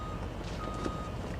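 Steady, fairly loud truck reversing beeps in Farming Simulator 19, a repeating tone over a constant low engine rumble, with no talk.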